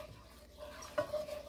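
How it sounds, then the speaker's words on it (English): A spoon scrapes and stirs paprika and smoked paprika dry-toasting in a pan for beef enchilada casserole, a brief soft scraping with a faint sizzle and one sharper clink near the end. "Keep on stirring, y'all."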